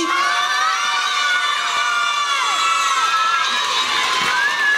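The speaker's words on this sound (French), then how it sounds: "On les applaudit." At a 2003 telethon salon, an audience cheers for a group of children: continuous loud crowd noise with whoops and high shouting voices rising over it, sustained without a break.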